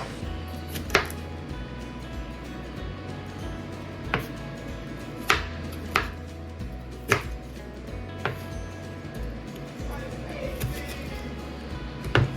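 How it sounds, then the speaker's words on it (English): A knife chops a large onion on a board: sparse, sharp, separate cuts at irregular intervals over a low steady hum. "so I got my onion chopped"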